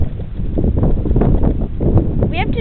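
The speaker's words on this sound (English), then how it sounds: "Too windy." Heavy wind buffets an outdoor microphone with a steady, loud rumbling roar, and a brief higher whine rises near the end.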